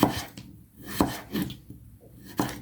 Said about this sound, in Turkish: Patatesleri böyle mi doğruyorsun Leyli Sultanım?